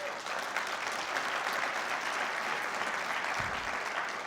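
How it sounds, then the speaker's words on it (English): Applause for a student jazz band at a school district State of the Schools event, a steady, moderately distant round of clapping from a seated crowd that holds evenly throughout. "especially our jazz band, if we can give them a round of applause"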